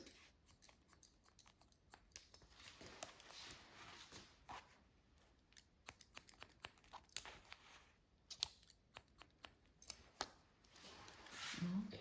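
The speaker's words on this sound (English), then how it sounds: "point cutting with short hair is a great idea" Scissors snip through short hair during a spiky pixie cut, many quick close crisp clicks in uneven bursts with brief pauses between them.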